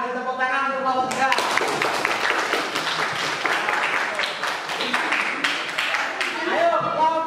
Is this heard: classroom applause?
yes